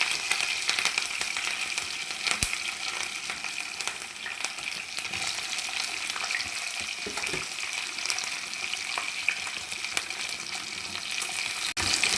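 Spices fry in heated oil for pappu charu, a continuous close sizzle with faint stirring scrapes and a few sharp clicks, steady for the whole stretch and free of speech.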